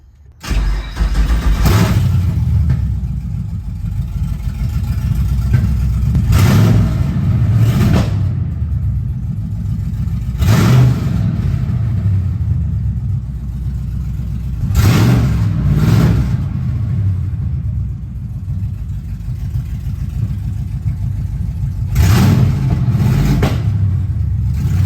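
A classic car running without full exhaust idles with a loud, close rumble, then is revved in about five sharp throttle bursts spaced several seconds apart, each swelling and dropping back to a steady idle.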